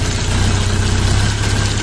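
The diesel engine of a 40 hp Dongfeng or Lovol minitractor runs close by with a steady low throb and rapid knocking pulse, loud and even under load, no voices.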